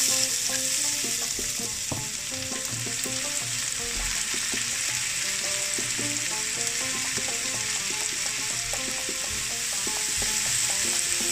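Peppers, garlic, chili and onion sizzle steadily in hot olive oil in a frying pan, a close continuous crackle with occasional stirring knocks and no talking.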